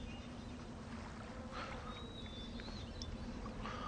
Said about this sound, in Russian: Это похоже на крылья жука, да?